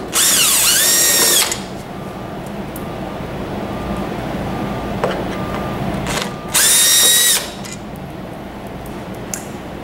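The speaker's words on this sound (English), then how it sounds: "use a Phillips head screwdriver to remove the 2 screws that secure the hard plastic frame to the metal frame" A power screwdriver removes screws from the hard plastic frame of a massage mechanism, whining loudly in two close bursts a few seconds apart, with light clinking and handling noise between them.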